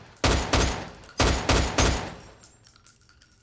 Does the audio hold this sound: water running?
no